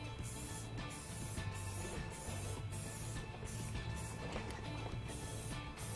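Aerosol protectant dressing sprayed steadily onto faded black plastic car trim, a continuous hiss held at a distance with a few brief pauses, fairly loud and even throughout.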